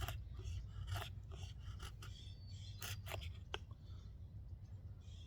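Lionsteel T5 knife shaving fine curls from wood, a series of short, light scraping strokes in an uneven rhythm over a low background hum, close and quiet.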